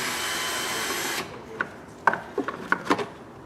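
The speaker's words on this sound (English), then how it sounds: "remove the cover for the throttle body. It is 4 10mm bolts" Ratchet work on the 10mm bolts of a throttle body cover on a 1997–2003 Ford F-150 with the 4.6L V8: a steady hiss drops away, then come a handful of short, close metallic clicks and taps.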